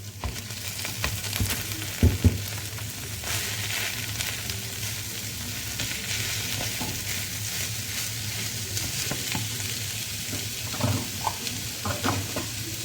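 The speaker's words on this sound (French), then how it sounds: "j'ajoute un verre et demi de boulgour que j'ai lavé et égoutté" Washed, drained bulgur sizzles steadily in a hot pan while being stirred, a continuous close frying hiss with occasional scraping clicks and no voices.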